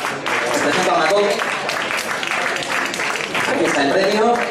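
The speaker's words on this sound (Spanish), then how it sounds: "Venga, ese aplauso para Pedro" Audience applause fills a television awards ceremony hall, dense and steady clapping throughout, loud and close, with voices mixed into the crowd noise.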